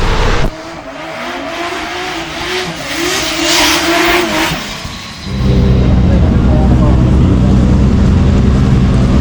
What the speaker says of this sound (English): we'll put a shot in right now of him doing a run around the track in that Supra